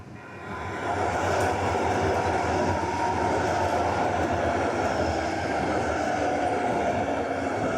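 A train passes close by on a rainy morning, its steady, loud rumble and rail roar rising within the first second and holding evenly throughout, with no talking.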